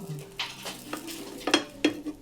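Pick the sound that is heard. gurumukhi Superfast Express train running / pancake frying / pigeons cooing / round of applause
pancake frying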